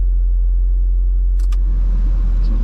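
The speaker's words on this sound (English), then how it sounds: "we'll go ahead and test the blower motor" A steady low hum and rumble fills the interior of a 1993 Toyota MR2, with a couple of faint clicks midway as the air conditioning blower motor whirs on.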